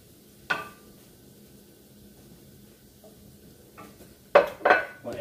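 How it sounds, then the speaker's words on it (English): Vegetables being added to a skillet with sauce for a honey shrimp stir fry: a few scattered, sharp clanks of a utensil against the pan, and a brief burst of scraping and clatter near the end, over quiet background. "We're going to go ahead and put our vegetables in there now."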